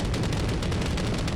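Continuous explosions in the Bloons Monkey City game, a dense, loud rumbling barrage of overlapping blasts with no pause.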